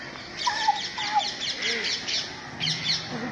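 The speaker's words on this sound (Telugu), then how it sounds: "కావు నరుస్తున్నాయి ఇడు కాకులు." Crows cawing in the evening behind a resort restaurant, several short harsh calls repeating in quick bursts at moderate distance, with faint voices in the background.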